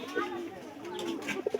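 Pet pigeons give low, rounded coos that repeat in short pulses near the end, mixed with close talking and room noise.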